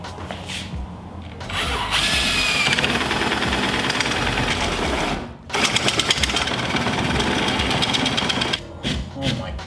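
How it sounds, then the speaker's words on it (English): A power drill fitted with a 1.5 inch bit bores holes through a board, grinding loudly and steadily in two long runs split by a short pause, with a brief stop near the end. "I can go ahead and drill out the holes."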